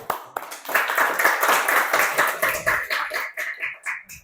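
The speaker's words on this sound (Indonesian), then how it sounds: "Tepuk tangan." A class of students claps their hands together in a school floor-gymnastics lesson, a dense burst of close applause that rises quickly and holds steady for a few seconds before thinning out toward the end.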